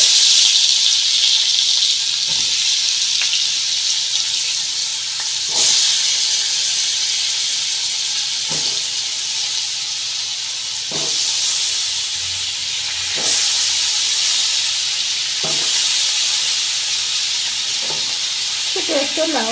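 Bottle gourd added to a hot pan with shrimp sets off a steady, loud sizzle and hiss, broken by regular scraping stir strokes every couple of seconds.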